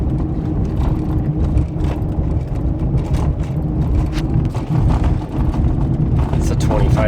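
A car carrying a beehive rattles along a rough road at full speed, making a loud continuous low rumble with bumps and rattles throughout.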